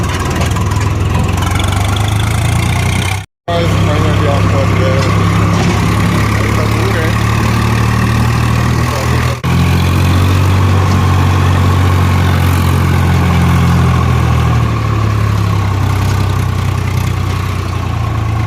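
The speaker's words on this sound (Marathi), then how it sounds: "आता निघणार आहे ट्रॅक्टर घेऊन आपण." A tractor engine runs loud and close with a steady low rumble that stays even throughout, broken by one brief dropout early on.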